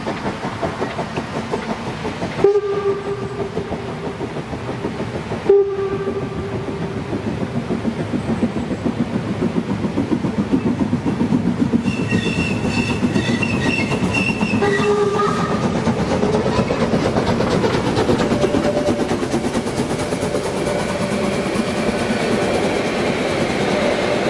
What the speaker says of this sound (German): Ein Zug aus Nordhausen hat eben die Station Netzkater verlassen.